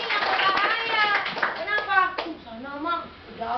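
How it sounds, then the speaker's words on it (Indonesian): Students in a classroom clap, with a burst of hand claps mixed into loud children's voices that continue over and after the clapping. "Pinter, tepuk tangan lagi"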